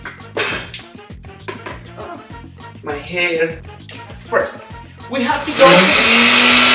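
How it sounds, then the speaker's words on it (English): A kitchen blender whirs up near the end as a loud, steady roar, after stretches of people talking and background music. "Anyways, I prefer the blender."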